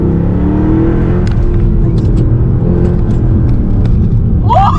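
A tuned 510 bhp Mercedes C63 AMG accelerates hard from inside the cabin, its engine droning loudly and continuously with brief shifts in tone at the gear changes, with faint clicks and rustles over the steady rumble.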